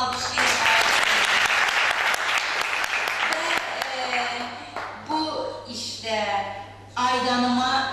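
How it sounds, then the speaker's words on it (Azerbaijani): An audience at a gathering applauds Osman Albayrak with a dense, loud wash of clapping that fades after about five seconds, when a voice starts speaking over the last of the applause. "Osman Albayraq'a bir onu alqışlayın"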